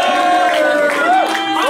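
Rap battle crowd yelling and cheering in a brief loud burst, voices overlapping with whoops and shouts.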